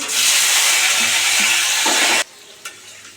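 Potatoes frying in hot oil with cumin seeds give a loud, steady, close sizzle for about two seconds, then it drops away abruptly, leaving a faint background and one small clack.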